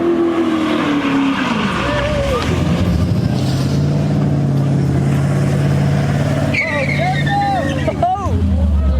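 Car at a street takeover struggling to back up in reverse, a loud engine drone with tire squeal and shifting pitch, under nearby talk and surrounding crowd noise.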